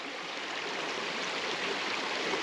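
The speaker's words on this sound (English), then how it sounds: "so the water goes down that hole" Water rushes steadily down into a sinkhole on the Sinking Waters Trail in East Tennessee cave country, a constant, close, broadband wash with no talk.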